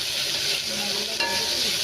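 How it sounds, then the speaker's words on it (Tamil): Garlic paste frying in a small amount of oil in a pan, a short close hiss of steady sizzling with a faint scrape near the end, no talking. "அப்படியே கொஞ்சமாக பூண்டு பேஸ்ட் போட்டுக்கிறேன்."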